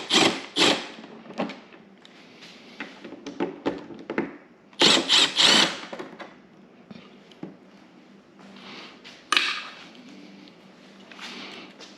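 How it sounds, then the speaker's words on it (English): Milwaukee cordless drill zipping out T27 fairing bolts on a motorcycle windshield trim, several short bursts of whirring separated by pauses and light clicks of handling, close and fairly quiet. "So I'm gonna be lazy and get my Milwaukee drill."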